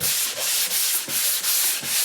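Hand sanding of dried drywall joint compound, a close, loud, raspy scrape repeated in steady back-and-forth strokes about every third of a second, with no voices.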